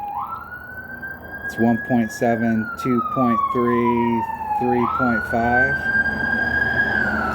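An ambulance siren passes on the street, a loud wailing tone that rises and falls while someone speaks over it in short bursts, staying prominent throughout.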